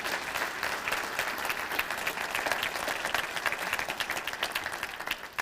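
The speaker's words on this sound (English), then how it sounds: "Please give them a round of applause." An audience at a college address claps steadily in a round of applause, fairly distant and moderately quiet throughout.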